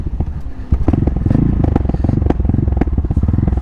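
An MZ Baghira 660 motorcycle engine idles close by with a lumpy, rapid thumping beat, rising in loudness after a moment and holding steady, with light mechanical clatter.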